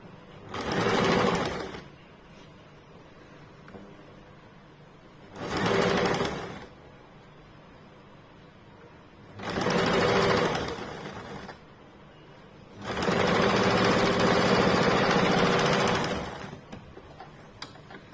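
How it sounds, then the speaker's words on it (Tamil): A sewing machine stitches blouse pieces in four close, loud bursts of rapid whirring, the last run longest, separated by short quiet pauses. "இப்போ 2 தையல் போட்டுக்கலாம்."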